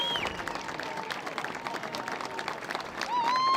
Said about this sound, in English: Doing a big cheer.